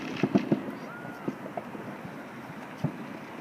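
Fourth of July fireworks pop and crackle in the distance, a quick cluster of bursts followed by scattered single bangs over a low outdoor hum.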